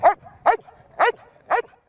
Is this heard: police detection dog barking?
yes